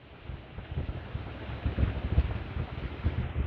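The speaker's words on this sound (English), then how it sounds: "Lots of wind." Strong autumn wind outdoors in South Dakota, a continuous rough rumbling gusting and buffeting against the microphone, growing louder toward the end, with no voices.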